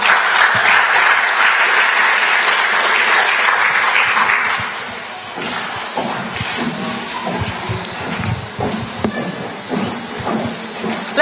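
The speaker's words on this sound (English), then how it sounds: "Let's give a warm round of applause to Natalie." Audience applause at a public lecture event fills the room loudly for about five seconds, then thins to scattered, fading claps and crowd rustle for the rest of the clip.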